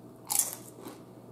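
Nachos bitten into with one sharp, close crunch followed by softer chewing crackles, quiet overall and without speech.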